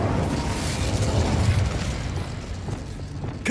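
A fire spell is cast in Hogwarts Legacy as a loud, rumbling whoosh of flame and burst, steady for a few seconds before easing off.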